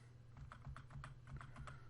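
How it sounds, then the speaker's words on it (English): Arrow keys tapped on a computer keyboard, a run of light, quick clicks at an uneven pace, faint and close in a quiet room. "I'm going to use the left arrow key on your keyboard"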